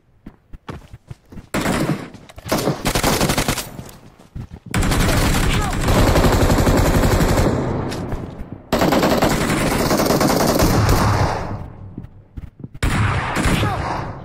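Dense bursts of gunfire in a shooter video game, including shotgun blasts, roar in loud sustained volleys separated by brief gaps, with a voice talking at times.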